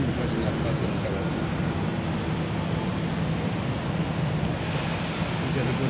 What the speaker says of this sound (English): Przelot robią niski. Robią low passa.